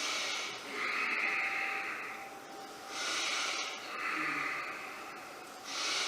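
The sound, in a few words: deep breathing during a yoga pose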